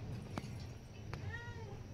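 A cat meows twice, short calls rising and falling, followed by a drawn-out wavering meow, close by over a low steady background hum.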